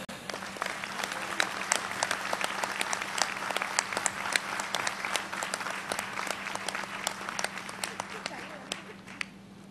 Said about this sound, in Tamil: இவ்வளவுதான் கைத்தட்டா